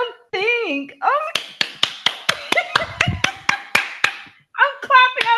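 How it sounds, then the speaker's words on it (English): A person claps their hands about a dozen times in a quick, steady run of sharp, close claps, with voices speaking and laughing before and after. "I'm clapping."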